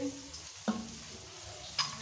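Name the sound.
onion frying in oil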